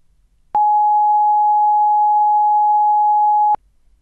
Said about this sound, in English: A tone will sound to warn you when each viewing is about to begin.